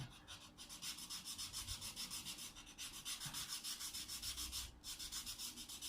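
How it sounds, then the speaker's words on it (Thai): A bamboo net-making needle is sanded smooth by hand, a quiet, close rhythmic scratching of quick back-and-forth strokes with brief pauses between runs. "นี่เราต้องขัดนะครับอย่าให้มีรอยหรือมีเสี้ยนมีอะไรนะครับ"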